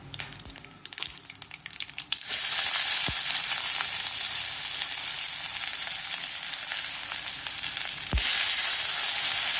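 Cumin and mustard seeds sizzle and crackle in hot oil for Khandeshi pavata curry, a steady loud frying hiss that swells after a quieter start, with a few sharp pops and no talking.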